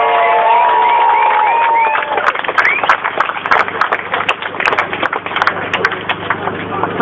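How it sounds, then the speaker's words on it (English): A crowd at an anti-war rally cheers, whoops and shouts at first, then breaks into loud, sustained clapping mixed with scattered calls. "Give them all a round of applause."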